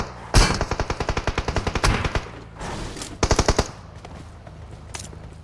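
Video game gunfire from an online shooter: a rapid automatic burst of loud, close shots, a brief pause, then a shorter burst of several more, followed by quieter game ambience.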